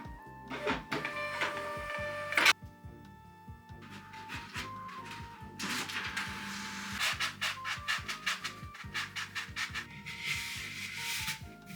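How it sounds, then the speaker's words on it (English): A small inkless thermal printer feeds and prints in short whirring bursts with rapid stepping ticks. Pauses separate the bursts, and the printer sounds close and fairly quiet with no talking. "It's inkless, so the printing comes from heat."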